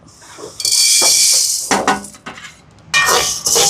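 Green gram (payaru) tipped into a pan for dry roasting, with a bright metallic clatter and rattling hiss of grains against metal in several bursts, interrupted by short scraping knocks.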